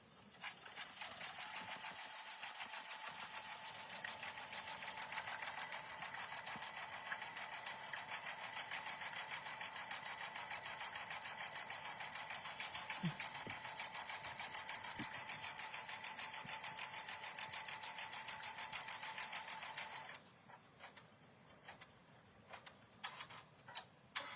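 An embroidery machine stitches sprinkles on a donut design with a fast, steady mechanical whir and rapid ticking needle strokes that run continuously, then break into sparse clicks and stops near the end.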